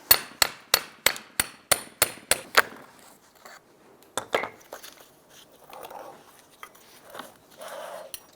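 A punch striking a non-reusable CV axle boot clamp on a 2001-2005 Honda Civic, about nine sharp, evenly spaced metallic taps up close, then quieter scattered clinks and handling noises.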